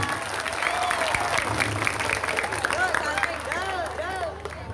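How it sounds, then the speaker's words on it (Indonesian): Audience applause at a school Isra Miraj commemoration, a steady wash of many hands clapping with crowd murmur and voices over it throughout. "Luar biasa, tepuk tangan."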